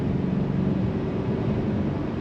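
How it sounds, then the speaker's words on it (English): A Polestar 1's four-cylinder turbo engine hums together with the whirr of its electric motors, a steady muffled low drone heard from inside the cabin with no talk. "But you're getting a little whirl of the electric motors. And the 4-cylinder turbo, I mean, it's not the greatest sound"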